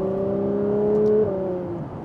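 A Ferrari 812 GTS V12 convertible engine hums with a steady tonal drone that rises slightly and then eases off, heard continuously and fairly close for a couple of seconds.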